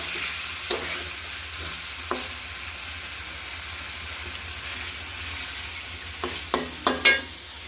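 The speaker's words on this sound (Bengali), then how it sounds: "এখন মশলাটা কষানো হয়ে গেছে আমার" Masala spices fry in a pan under a quiet continuous sizzle, with scattered stirring scrapes that grow into a cluster of louder clinks near the end; no talking.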